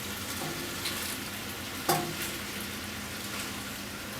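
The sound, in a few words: stir-frying yakisoba meat and vegetables with tongs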